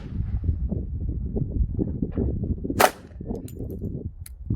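A single sharp gunshot from a .45 ACP pistol loaded with Advanced Ballistic Concepts ammunition cracks out midway, standing loud and alone over a steady low background rumble.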